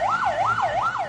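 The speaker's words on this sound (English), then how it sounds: "The siren-blaring ambulance stopped on the road while the cavalcade of the minister passed by." An ambulance siren wails on a road, a loud rising-and-falling electronic tone sweeping in a quick steady cycle, close and clear over faint traffic rumble.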